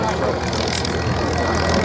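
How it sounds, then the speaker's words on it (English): Hurricane, Mustang and Spitfire propeller warplanes taxi out at a Dunsfold airshow, a steady loud engine drone and rumble filling the air throughout, with crowd noise mixed in. "Hurricane, the Mustang and the Spitfire taxiing out ready for their display."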